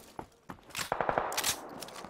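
Gunfire in the video game PUBG: a short burst of several rapid shots, fairly close and moderately loud, with a few scattered single shots and scraping sounds around it.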